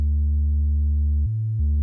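A Roland MKS-50 synthesizer plays its Bass 1 patch as a deep, smooth sustained bass note that briefly dips to a lower pitch and then returns, with nothing else heard.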